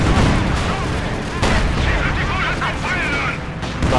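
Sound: artillery and gunfire in video game Company of Heroes 2

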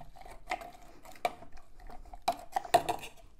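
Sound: muddling pineapple and melon with sugar

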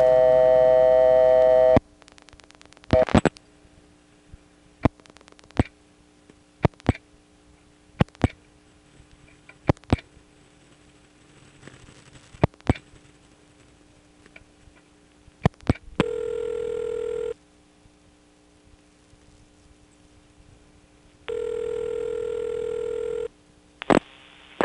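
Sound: ringback tone before vacant code recording on telephone exchange

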